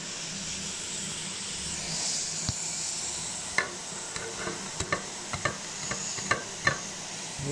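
Garlic sizzling in a hot pan as the first step of pakbet, a steady frying hiss with repeated sharp clicks and scrapes of a utensil stirring, close and alone.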